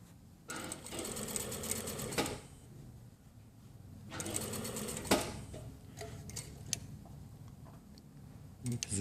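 Sewing machine stitching a shirt collar seam into a corner, running in two long bursts with a pause between them and a few short stitches near the end.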